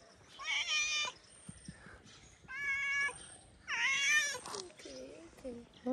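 A calico cat meows several times, long rising and falling cries with short gaps between them, close by in a quiet room.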